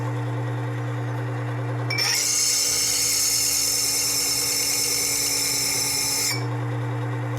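A Work Sharp 3000 sharpener running with CBN wheels hums steadily, then a blade is ground against the spinning wheel for about four seconds, giving a loud, close, bright hissing grind before it drops back to the motor hum.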